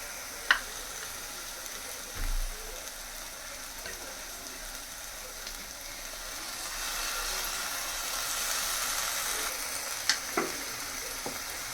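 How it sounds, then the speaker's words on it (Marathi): Maharashtrian chicken curry masala paste frying in a pan with tomato puree added, a steady soft sizzle throughout with a few sharp clinks of a stirring spoon against the pan. "आता आपण याच्यामध्ये टोमॅटोची प्युरी टाकणार आहोत. हे वाटण भाजत आलेलं आहे."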